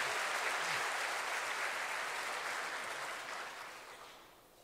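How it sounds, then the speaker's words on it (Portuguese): A church congregation at an evening celebration service applauds in a continuous, even wash of clapping that stays faint and distant, then gradually fades out. "Você pode aplaudir o Senhor porque Ele é digno"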